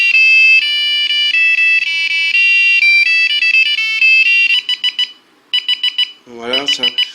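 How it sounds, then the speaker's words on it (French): A small kit-built alarm clock with a thermometer plays its electronic ringtones: bright, shrill beeping melodies in quick repeating bursts, followed by a short warbling tone, loud and close. "Voilà, les petites sonneries."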